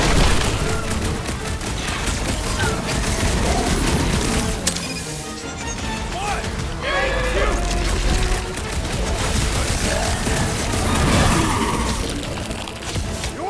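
Rockets fire during combat in the Marvel's Guardians of the Galaxy game, with loud, dense bursts of explosive booms and crackling blasts over a constant roar of battle noise throughout.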